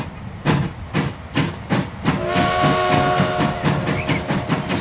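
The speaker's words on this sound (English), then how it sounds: "Press this to start the train going again." A Transport Fever train pulls away with rhythmic chuffs of steam, loud and regular, and a sustained whistle-like tone joins halfway through while the chugging carries on.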